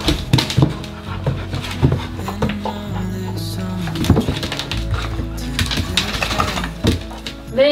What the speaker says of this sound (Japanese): レイね、兄弟とかお母さん以外のワンちゃんと初めて遊ぶからね、喜んでるね